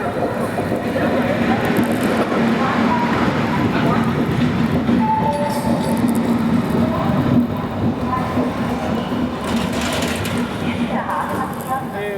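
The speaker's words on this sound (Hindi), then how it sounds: "निर्धारित समय से 5 मिनट पहले हमारी विदर्भ एक्सप्रेस पहुंच चुकी है शेगांव" Vidarbha Express train arriving at Shegaon station, a loud continuous rumble of rolling coaches with rhythmic wheel clatter, under a voice talking.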